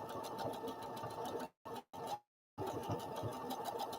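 A sewing machine stitches in steady, close mechanical bursts, stops abruptly twice in quick succession, then falls silent for a moment before resuming its busy, even whirring.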